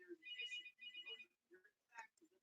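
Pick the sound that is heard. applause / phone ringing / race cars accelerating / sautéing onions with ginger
phone ringing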